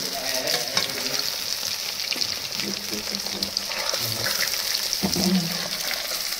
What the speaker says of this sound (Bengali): সয়াবিনগুলো ভেজে নিই।